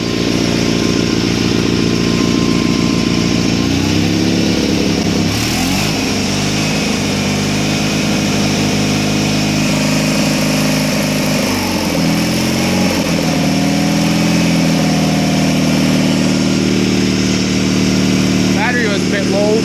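A Honda TRX400EX quad with a low battery idles close by, a steady loud throbbing engine with slight rises in pitch, while a person talks over it.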